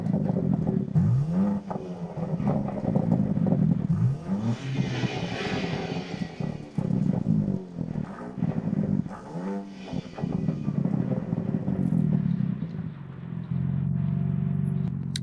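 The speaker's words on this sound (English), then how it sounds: "It actually makes a pretty nice sound, and the exhausts are really satisfying." Exhaust of a BMW M3 CS Touring wagon, heard from the rear outdoors: throaty, loud engine note that rises and falls through several revs and blips, with crackles between pulls and a steady idle rumble at the end.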